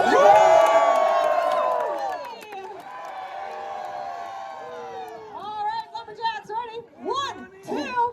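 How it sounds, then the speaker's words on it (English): An audience at a lumberjack show on Grouse Mountain cheers loudly, a sustained wall of shouting voices that gives way to scattered whoops and children's excited cries in short bursts. "so who's cheering for Johnny"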